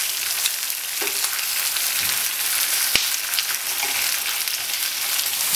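Sous vide steaks sear in a hot pan after being flipped, a loud, steady crackling sizzle with a sharp clack partway through and scattered pops, with no talking.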